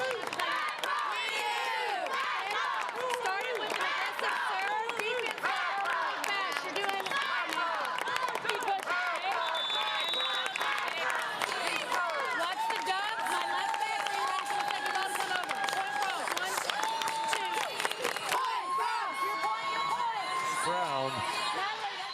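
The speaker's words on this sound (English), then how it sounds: "the Mad Frog fans up behind her team yelling, "Mad Frogs, Mad Frogs, Mad Frogs."" Youth volleyball fans at a tournament cheer, shout and chant together in a dense, lively wall of voices with some clapping, sustained and fairly loud throughout.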